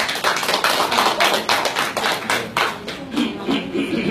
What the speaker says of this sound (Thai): ขอปรบมือ